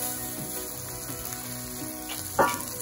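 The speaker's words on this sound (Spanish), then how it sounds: "Y sofreímos todo un poquito, removiendo bien, para que coja todo el color del arroz" Bomba rice frying with squid ink and paprika in a paella pan, a low steady sizzle with occasional stirring scrapes and one louder spoon clack near the end, close and quiet.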